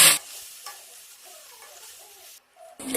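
Mutton pieces are stirred with a spoon in a hot kadai, giving a soft close sizzle with light scraping. The clip opens and closes on brief loud bursts and has a short silent gap near the end.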